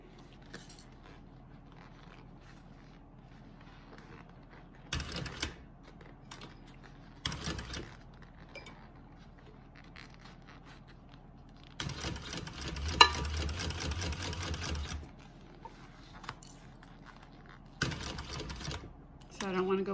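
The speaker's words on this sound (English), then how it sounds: "when we get to the edge, we're going to stop sewing right at the point" A sewing machine stitches a handmade bag in short bursts of rapid mechanical whirring, several separate runs of a few seconds each, close and clear, with pauses between them where quiet background sounds remain.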